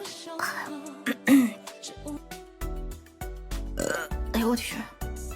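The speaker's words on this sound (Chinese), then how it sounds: "哎呦，来了个大嗝！" A vtuber's loud burps, several short guttural bursts scattered between speech and exclamations, close and clear.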